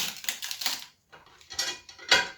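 Knife scoring a crosshatch pattern into a piece of wood while preparing for fire making, heard as short scraping, clicking cuts in quick bursts with a brief pause midway, close and fairly loud, no talking.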